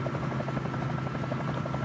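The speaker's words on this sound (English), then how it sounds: "Remember, the helicopter naturally wants to torque a little bit to the right there." A Bell 47J Ranger helicopter in Microsoft Flight Simulator drones steadily, its rotor chopping in a fast, even pulse over a constant loud engine roar with no pauses.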